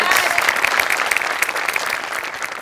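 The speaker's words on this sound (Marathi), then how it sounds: "त्याकरता तुझ्यासाठी विशेष टाळ्या." Loud, dense audience applause at a comedy show, steady clapping from a crowd throughout with no pause.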